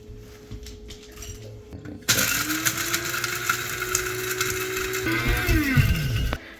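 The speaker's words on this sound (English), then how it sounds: "So we're gonna grind them up in the coffee grinder." A coffee grinder grinding dried candy cap mushrooms starts suddenly with a loud, high whirring buzz. It holds steady for a few seconds, shifts pitch partway through, and then cuts off abruptly.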